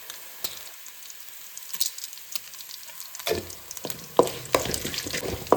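Garlic and chana dal fry in a pan with a light sizzle, broken by scraping spoon strokes and sharp metallic clinks that come more often in the second half. There is no speech.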